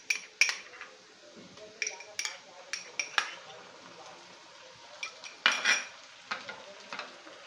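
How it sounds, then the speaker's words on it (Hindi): Ginger garlic paste goes into onions frying in a pan, with a soft sizzle under repeated metal clinks and scrapes of a spoon stirring against the pan, close and moderately quiet. "अब इसमें हम अदरक लहसुन का पेस्ट डाल देंगे"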